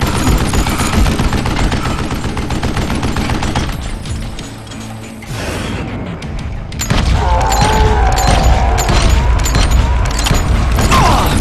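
Gunfire rings out in the Western shooter game Call of Juarez Gunslinger, with loud repeated shots and booms, a short quieter lull, then dense rapid firing resuming alongside game effects.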